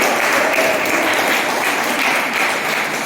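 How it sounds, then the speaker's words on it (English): Members at a Toastmasters club's 1,600th meeting give a loud, sustained round of applause, thick and continuous throughout without any speech. "Give yourselves a big round of applause."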